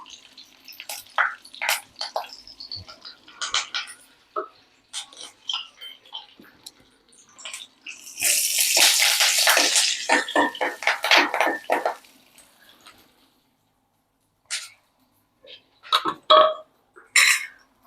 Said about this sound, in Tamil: ஃபஸ்ட்டு வந்து புளியை கரைச்சி அந்த தண்ணி சேர்த்திடலாங்க, புளி தண்ணியை.